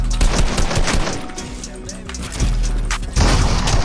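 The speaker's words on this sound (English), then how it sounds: "My gun is shooting!" Video game gunfire rattles in loud, dense bursts throughout, with a heavy low boom near the end, while voices talk over the shooting.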